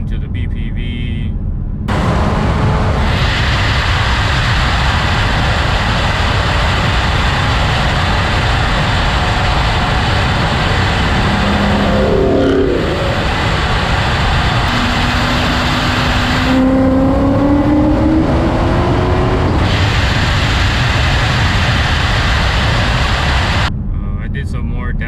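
A 2017 Ford Mustang under boost, its engine droning loudly from inside the car, with rising whooshes and a couple of short hissing blow-off valve releases partway through. A voice speaks briefly under the noise.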